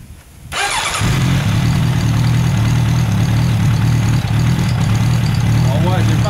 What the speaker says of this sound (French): Donc je vais démarrer la moto et vous montrer ce qui se passe